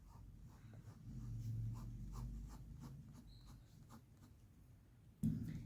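Marker strokes on a board during a Class 12 maths lesson on relations and functions: faint, scratchy rubbing strokes repeating steadily over a low room hum, ending with a sharper knock.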